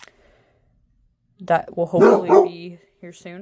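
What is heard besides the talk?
dog barking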